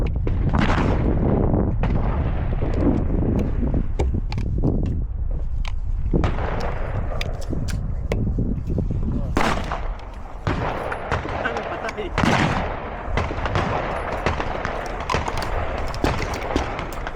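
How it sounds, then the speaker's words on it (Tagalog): Video game weapon fire booms and cracks in rapid, repeated bursts, loud and dense throughout, with players talking over the shooting. "Sarap na yung putok nito, Corix."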